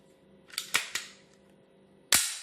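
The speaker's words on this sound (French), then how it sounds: "J'actionne la culasse." The slide of a Walther P99 pistol is racked, with sharp metallic clicks and snaps: a quick cluster of three clacks followed after a pause by one louder snap, close and crisp.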